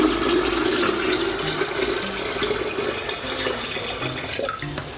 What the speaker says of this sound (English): add your water like this.